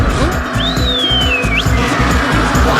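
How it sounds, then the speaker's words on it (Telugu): A bus in a comedy movie scene skids into a makeshift bathroom with a long, high tire screech that bends and drops. An engine roars underneath, and the whole moment is loud and close. "బాత్రూమ్ లోకి బస్సు వచ్చింది రాము గారు"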